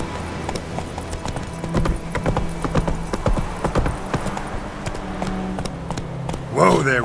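Roach, the horse in The Witcher 3: Wild Hunt, gallops with loud, quick hoofbeats, then slows and ends with a sharp whinny near the close.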